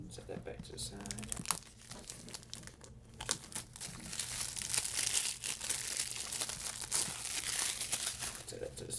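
A package is cut open with a pocket knife: crinkly tearing and slicing of packaging and tape runs throughout, fairly close, with a voice speaking over it.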